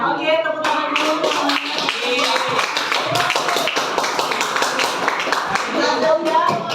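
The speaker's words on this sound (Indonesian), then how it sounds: "Oke, tepuk tangan dulu." A class of eighth-grade students clapping together in a classroom: a sustained burst of brisk hand claps, fairly close, with voices chattering and calling out over the clapping.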